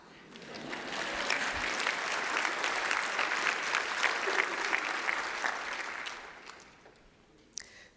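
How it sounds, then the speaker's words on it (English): A conference audience claps steadily for about six seconds, a dense wash of hand claps that swells quickly and holds before thinning out, with a single louder clap near the end. "And this is the part where you're supposed to clap."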